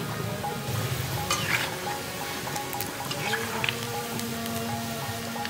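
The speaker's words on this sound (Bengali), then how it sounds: "ডুবো তেলে ভালোভাবে গোল্ডেন ব্রাউন করে ভেজে নিচ্ছি।" Batter-coated bhoga offerings for Jagannath deep-fry in hot oil, giving a continuous close sizzle and bubbling with occasional stirring and scraping of the pan.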